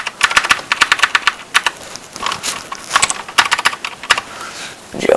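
Rapid keystrokes on an old computer keyboard, close up, come in uneven bursts of sharp clicks with short pauses between runs.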